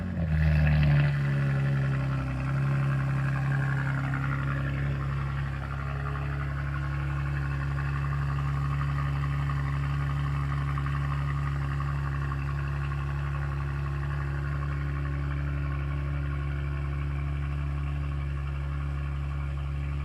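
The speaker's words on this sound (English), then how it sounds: "we're about to do first startup so you guys can hear the exhaust" A BMW G80 car engine turns over on its first startup and settles into a steady, low idle, its exhaust rumbling continuously and evenly.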